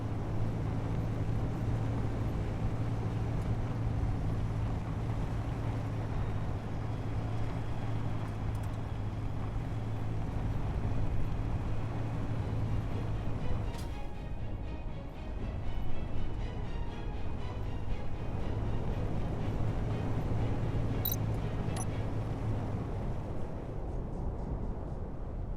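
A vehicle drives at night in the video game Space Engineers, its engine a steady low drone that rumbles on unbroken and evenly for the whole stretch, with no voices.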